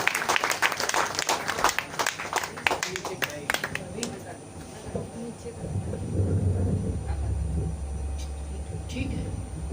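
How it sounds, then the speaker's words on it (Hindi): A crowd claps loudly for several seconds at a Hindi poetry gathering, the applause thinning out and giving way to a low rumbling murmur. "तो एक बार जरा इसके लिए भी तालियां बजाएं"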